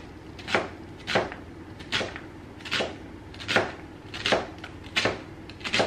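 Sweet Cévennes onions are cut on a kitchen board in a steady series of about eight crisp knife chops, evenly spaced and close, with no talking.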